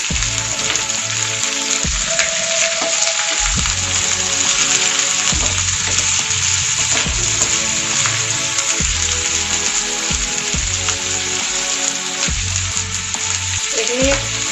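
Capsicum sizzling and frying in a pan with oil while cooking chili paneer, a steady loud crackle with periodic stirring sounds, no talking.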